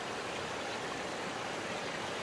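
River flowing through the Khashupse canyon in Abkhazia, a soft, steady broadband rush of clean running water, faint and continuous with no other sounds.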